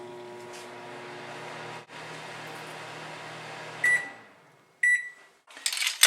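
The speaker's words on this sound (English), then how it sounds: "Then you want to microwave it until nice and soft." A microwave oven hums steadily while softening butter in a mug, then falls quiet and gives a few sharp beeps, followed by clattering as the door opens.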